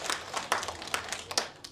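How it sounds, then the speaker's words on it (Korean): Audience clapping at a year-end award ceremony for a national Korean folk song (minyo) competition, heard as a short, moderately quiet burst of scattered hand claps with distinct individual slaps over a little more than a second. "박수 부탁드리겠습니다"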